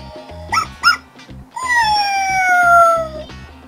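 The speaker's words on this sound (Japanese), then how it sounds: "ワンちゃんの鳴き声とともにテクテクガーデンが振動モードに入りました" A recorded dog bark from an Ania Tekuteku Garden toy sounds loud and close: two short yips, then a long electronic falling whine-howl, over a steady rhythmic mechanical buzzing as the toy starts vibrating.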